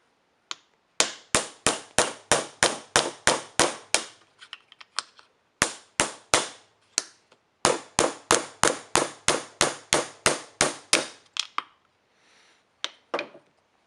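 Rapid bursts of sharp metallic strikes from a 1-pound hammer on steel over an anvil, in fast rhythmic runs separated by short pauses, close and ringing.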